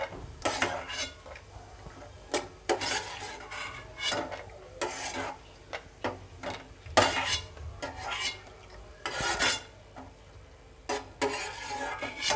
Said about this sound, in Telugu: ఇప్పుడు వేగిపోయినవి ప్లేట్లోకి తీసుకుందాం.